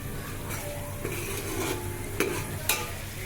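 Fish pieces fry in ginger paste and turmeric in oil, a steady close sizzle with scattered scrapes and light clinks of a utensil stirring in the pan.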